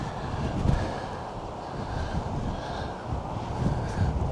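Steady wind buffeting the microphone on an exposed Cheshire hilltop, a low continuous rumble with gentle gusts rising and falling and no other clear sounds.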